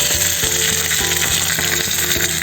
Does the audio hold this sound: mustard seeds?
yes